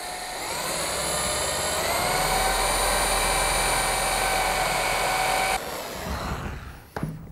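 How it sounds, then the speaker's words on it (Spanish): Power drill boring holes for tuning pegs into the wood of a handmade hurdy-gurdy, a loud sustained whine that holds steady for several seconds before cutting off, followed by brief clatter. "ahora vamos a hacer los agujeros donde van a ir alojados las clavijas"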